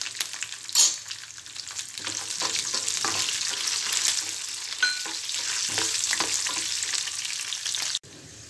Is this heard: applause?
no